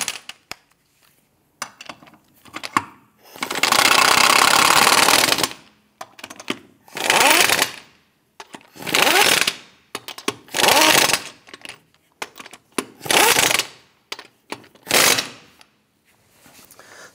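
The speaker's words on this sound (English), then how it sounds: "Once you have them all started, go ahead and snug them down." Impact wrench snugging down lug nuts on a 2008-2013 Nissan Rogue wheel, in loud, close bursts of rattling hammering, about seven of them, separated by brief quiet gaps.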